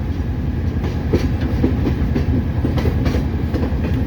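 A ballast train railroad car rolling slowly down the track, with a steady loud rumble and rhythmic clickety-clack of wheels over rail joints, close by and with no talk.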